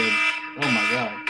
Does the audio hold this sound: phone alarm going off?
yes